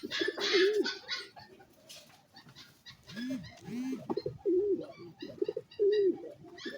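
Young pigeons coo in soft, repeated rolling calls close by, with a few short chirps and brief rustling between them, and no one speaking.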